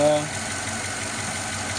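A Chevy 5.3 V8 idles steadily after a timing chain replacement, a smooth continuous hum with no lifter clatter; speech overlaps it at the start.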